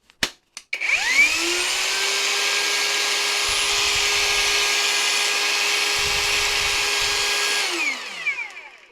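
A Parkside Performance 20V cordless angle grinder spins up without a disc, holding a smooth, fairly quiet high-pitched whir for several seconds before winding down, with a couple of clicks at the start.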